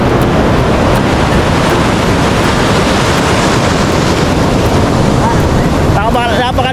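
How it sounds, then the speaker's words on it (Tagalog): Big sea waves break and churn around a person standing waist-deep off a beach in Daet, Camarines Norte, a loud, continuous roar of surf with heavy wind buffeting the microphone and a voice cutting in at the end. "Yung alon ngayon, ang laki oh"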